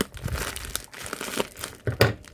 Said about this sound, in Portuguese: A gente vai escolher um dos lados e vamos fazer um buraquinho aqui com a tesoura